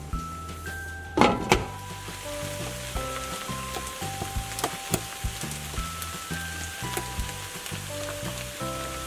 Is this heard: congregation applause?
no